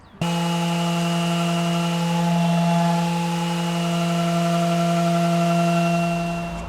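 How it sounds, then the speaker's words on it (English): An orbital sander starts abruptly on a hardwood deck and runs with a steady, loud whine and hum for several seconds, then begins to wind down. "the orbital sander's done a pretty good job of smoothing off the top of the boards"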